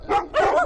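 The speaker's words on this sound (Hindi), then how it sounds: "कुत्ता अब भी भौंक रहा था।" A dog barks at night beside a watchman in an animated story, giving two close, sharp bursts of barking with a whimpering, yelping edge.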